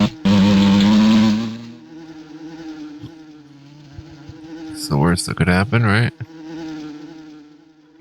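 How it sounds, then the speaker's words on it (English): Buzzing of a carpenter wasp enemy in Asheron's Call, a loud insect drone running throughout with a sharper burst of wing noise near the end, while someone talks over it. "You smite the carpenter wasp mightily."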